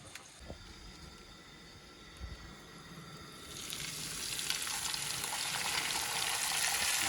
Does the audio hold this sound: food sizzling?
yes